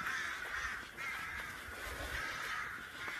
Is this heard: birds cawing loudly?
yes